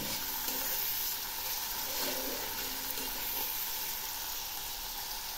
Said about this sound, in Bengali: পেঁয়াজ আর টমেটো কুচি ভাজা প্রায় হয়ে এসছে।